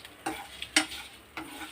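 Coriander seeds and salt dry-roasting in a pan, stirred in a few distinct scraping strokes with a soft sizzle between them, close and fairly quiet with no voices.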